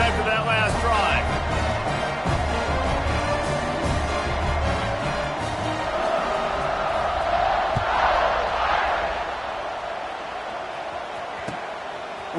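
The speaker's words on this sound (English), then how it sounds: "this crowd is feeling themselves after that last drive" A stadium crowd at a football game roars and cheers during a kickoff, a broad, sustained wall of voices that eases slightly toward the end, with a commentator talking over it throughout.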